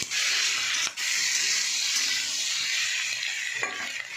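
Capsicum, tomato and chicken tipped into a pan of lightly fried onions, with soy sauce and turmeric to follow: a loud, steady, hissing sizzle throughout, broken by a brief dip and a couple of scraping stirs.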